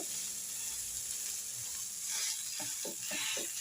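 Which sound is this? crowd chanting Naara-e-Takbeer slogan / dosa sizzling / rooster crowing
dosa sizzling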